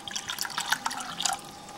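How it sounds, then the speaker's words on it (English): Water splashes and trickles in a continuous pour into a pan, with bright bubbling and dripping tones, close and fairly loud. "So I pour some water in the pan here."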